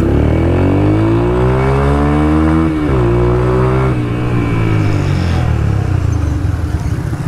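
A Yamaha YB125Z motorcycle fitted with a Hayabusa exhaust revs up close, the engine note climbing steadily, dipping briefly, then rising again into a loud raspy drone, no talking.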